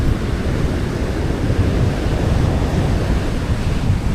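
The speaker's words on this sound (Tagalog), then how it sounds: "Lalaki ang mga alon ngayon dito sa amin." Large ocean waves pound the shore under a strong monsoon wind, a continuous loud roar of surf and wind buffeting the microphone with no pauses.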